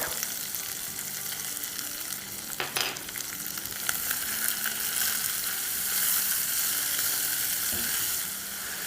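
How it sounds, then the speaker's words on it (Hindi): Onions and ginger sizzle steadily in a hot pan, a loud continuous frying hiss with occasional stirring scrapes and clinks, close up and without talk. "इसको प्याज को थोड़ा सा सॉफ्ट होने तक पका लेंगे"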